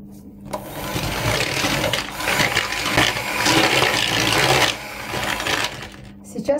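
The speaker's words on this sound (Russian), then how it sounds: "сюда же мы ложим наш сахар и перетираем масло с сахаром" Electric mixer creaming butter with sugar for quick yeast-free Easter kulich, a steady whirring drone for most of the stretch, loud and close, easing off near the end with a few clinks.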